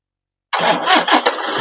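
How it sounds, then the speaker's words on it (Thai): A Toyota Vigo pickup's engine cranks and catches after half a second of silence, then runs loud and close with a few uneven surges as it settles toward idle. "เดี๋ยวเราจะสตาร์ทรถดูนะครับ ดูว่าได้ชาร์จ"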